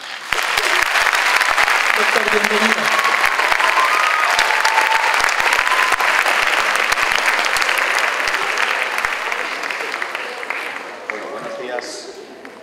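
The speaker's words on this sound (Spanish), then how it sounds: "pido un aplauso de su parte" Sustained applause from a large crowd at a nursing congress fills the room, steady and loud for several seconds before tapering off, with a voice speaking briefly over it.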